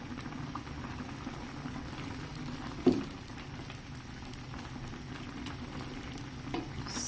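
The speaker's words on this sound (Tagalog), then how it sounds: "So, halugugin muna natin iyan." Salmon sinigang soup simmers and bubbles steadily in a pot while it is stirred, with a single brief knock of a utensil against the pot partway through; the sound is faint overall.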